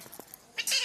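A single short cat meow rising near the end, after a few faint soft sounds, close and moderately loud.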